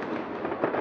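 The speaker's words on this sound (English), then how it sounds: "You can only play with fireworks in Denmark for a few days a year." Fireworks crackling and booming during New Year celebrations in Denmark, a brief, dense burst of rumbling pops at moderate distance.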